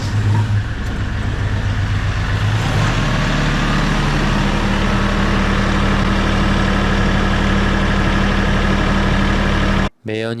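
A Daedong DK small-to-medium tractor's heavy engine runs loud and steady up close with the throttle raised, a constant diesel rumble that holds without pause before cutting out abruptly near the end.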